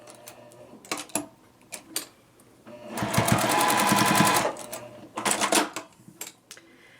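A sewing machine runs in short bursts and one longer steady run while stitching a quilt block seam for a ripple mini quilt, its rapid mechanical clatter close and clear with quiet pauses between.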